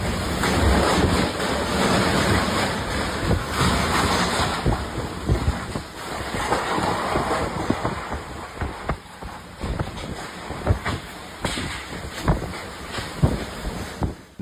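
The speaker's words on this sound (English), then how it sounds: "Powerful floodwaters in Peru pushed an enormous surge of logs and branches down the river with" A powerful floodwater surge in Peru carries logs and branches down a river, making a steady loud roaring rush of churning water with heavy wind buffeting throughout and scattered knocks and thuds.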